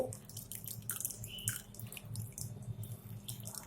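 Whey drips and trickles in quick, uneven splashes from a cloth squeezed around homemade paneer, soft and close, with no talking.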